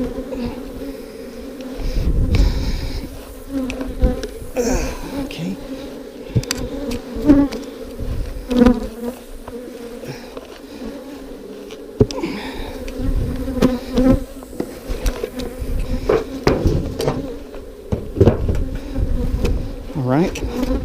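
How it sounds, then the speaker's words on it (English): Honey bees swarm around an open hive during an inspection, keeping up a loud, dense buzzing drone throughout, with individual bees zipping past close by and some brief background voices. "Here comes the mean bees."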